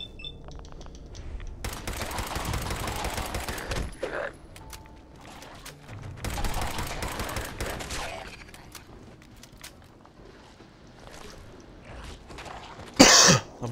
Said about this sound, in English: I've always got a really bad cough.